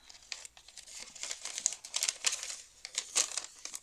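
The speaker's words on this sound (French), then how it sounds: "je remets dans l'enveloppe" Paper being crinkled and slid back into an envelope, a close, quiet run of irregular rustles and crackles with brief bursts, heard alone without talking.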